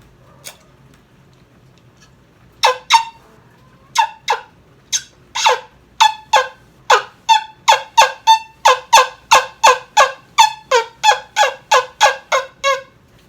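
A freshly tuned turkey wing bone call gives a long series of sharp, close yelps, sparse at first and then rapid and evenly spaced, over a quiet background.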